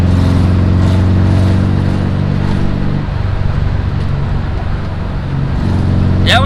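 An air-cooled Volkswagen with a newly fitted EMPI Hurst-style shifter drives down the road, its engine droning with a steady harmonic hum that shifts pitch midway as it changes gear, loud and close.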